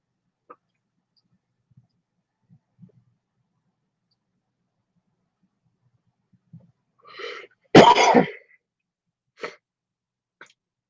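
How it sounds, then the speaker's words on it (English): A single sharp sneeze bursts out loudly after a few soft breaths and small mouth noises, followed by quiet sniffs in an otherwise silent room. "I felt like a huge sneeze, and then it just turned out to be kind of like a back of the throat kind of sneeze"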